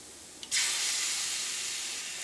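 Chicken drops into hot spiced oil and bursts into a loud, steady sizzle that holds at an even level after a brief quiet moment, with no voices.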